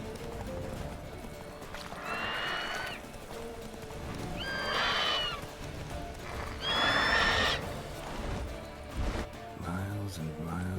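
Roach, the horse in the Witcher 3 video game, neighs and whinnies three times in loud bursts over steady clip-clop hoofbeats at a gallop, with a brief voice near the end.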